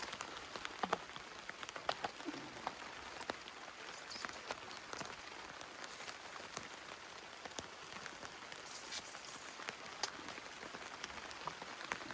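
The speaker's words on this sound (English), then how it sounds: "It's starting to drizzle again pretty steady." A steady drizzle of rain patters on a hot tent, a faint, dense, even crackle of drops with no voices.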